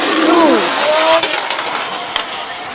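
A drift car at Formula Drift Japan on Ebisu West Course screams past with rising and falling engine revs and a tire squeal, loud at first then fading, while a commentator talks over it.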